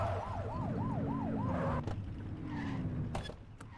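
A police siren from the video game The Precinct wails in a fast, rising-and-falling yelp for a few cycles, then cuts out, leaving engine hum and a couple of sharp clicks.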